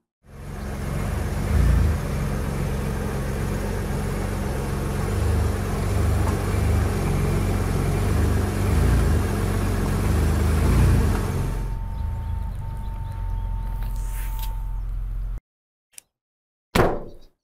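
A Ford Ranger Raptor climbing an RTI test ramp off-road, its engine droning loud and steady for about twelve seconds, then cutting to a quieter idle before abrupt silence with a couple of sharp knocks.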